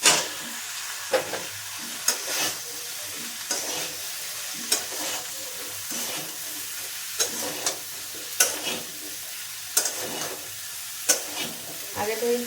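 Vegetables tipped into a pan of salted onions that have been frying until browned, then stirred: a steady sizzle and hiss with repeated scraping strokes of the spoon against the pan, close and alone, no talking.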